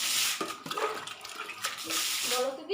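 Water splashing and running across a floor being washed at home, a continuous rushing wash with a few louder pours and sloshes, fairly close.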